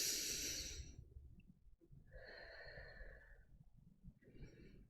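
A breath is exhaled during a yoga exercise, a soft, close breathy rush at the start that fades away. Quieter airy breaths follow in a calm, near-silent room.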